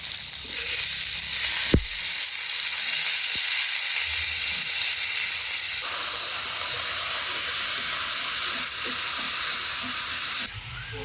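Green jackfruit poured onto onions frying in mustard oil gives a loud, close, continuous hiss and sizzle with a few knocks, easing slightly partway through and dropping at the end.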